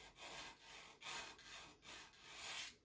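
Strokes of a dental instrument's cutting edge against a sharpening stone, faint rhythmic rasping downstrokes repeated in a steady pattern, close and quiet.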